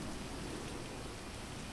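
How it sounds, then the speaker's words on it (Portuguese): Heavy rain at night in the video game GTA 5, a dense, steady hiss of downpour filling the whole clip at constant level, alone without voices. "Tá chovendo muito."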